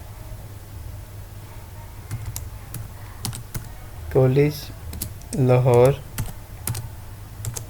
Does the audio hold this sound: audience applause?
no